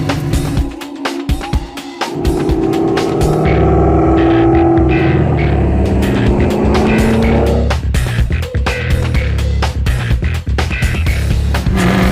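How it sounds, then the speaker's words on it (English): A Pontiac Firebird at an autocross event, its engine revving loud and close, rising and falling through gear changes as it drives the course, with a brief near-silent gap before the roar returns. "Okay, we are at the second event of the first day. This is the autocross."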